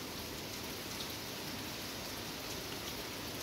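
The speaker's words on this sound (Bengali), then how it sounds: "দেখো বৃষ্টি কিন্তু পিছু ছাড়ছে না।" Steady rain falls in a continuous soft hiss with scattered drops on surfaces, faint and unbroken throughout, with no talk.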